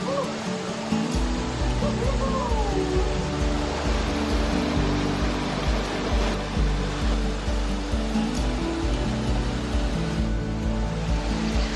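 Mountain waterfall rushing with a steady, broad roar of cold falling water, continuous and fairly close throughout.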